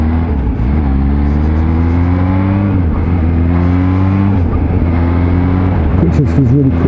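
A 2020 Kawasaki Z H2 supercharged naked motorcycle accelerates hard and loud up close, its engine pitch climbing in steady steps as quick-shifted gear changes come with brief dips, and wind roars throughout.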